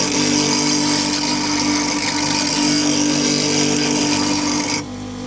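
A bench grinder rounds off the tip of a woodturning tool, a loud, steady, harsh grinding whine that continues for about five seconds and then abruptly drops to a quieter hum.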